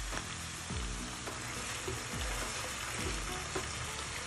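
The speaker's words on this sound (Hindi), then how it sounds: "प्याज डाल देंगे, हल्का सा ब्राउन करेंगे। मैं इसमें अदरक लहसुन की पेस्ट शामिल कर दूंगी।" Onions sizzle and fry steadily in a pan with ginger garlic paste, a continuous close crackle with faint stirring scrapes and no talking.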